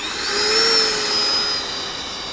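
Freewing Rebel V2 RC jet taxiing on a calm day, a steady electric ducted-fan whine holding a high pitch that rises slightly and eases, close and loud with no talk.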